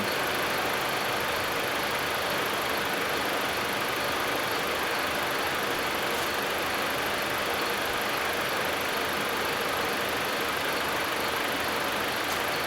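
A Jeep Patriot with about 49,000 miles idles with the A/C compressor running, recirculation on and the blower fan on its lowest setting, giving a steady, even hum and hiss that holds throughout with no talk.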